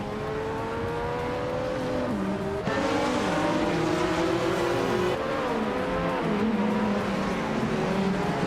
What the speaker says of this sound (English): Lian Yexin is driving a 1984 Rondo M 482.